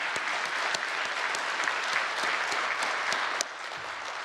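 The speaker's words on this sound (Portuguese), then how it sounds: "eu peço a todos uma salva de palmas para o Jorginho." An audience at a Brazilian ceremony applauds, dense steady clapping throughout that drops slightly in volume near the end.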